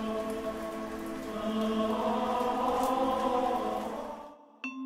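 Heavy rain pours down in a dense, steady hiss of drops striking surfaces, layered with droning tones, moderately loud before fading out abruptly.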